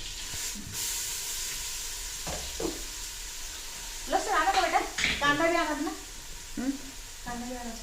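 Chicken sizzling and hissing steadily in a pot over a gas stove flame, while a person talks over it in short phrases.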